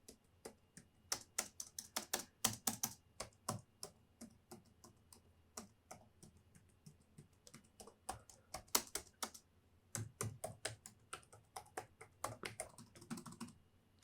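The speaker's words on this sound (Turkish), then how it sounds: "Evet arkadaşlar klavyemizin sesi bu şekildeydi." Someone types on the keyboard of a Casper Excalibur G900 gaming laptop, producing quiet, crisp key clicks in irregular bursts and flurries with short pauses, close up and without talking.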